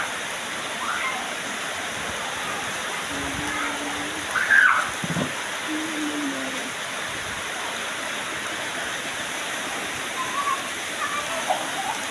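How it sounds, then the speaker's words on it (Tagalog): A constant heavy wash of rain or rushing water fills the scene, with a brief faint voice and a few tonal sounds beneath it. "kusog ang ulan"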